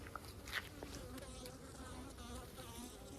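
Honeybees buzzing steadily at an open hive during an inspection, a close, continuous insect drone with a few louder passes near the start.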